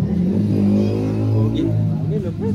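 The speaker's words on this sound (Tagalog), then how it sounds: "Yung dating motor na putok na putok ang tambutso." An old motorcycle with a loud popping exhaust revs nearby, its engine drone swelling and easing with crackling pops while people talk over it.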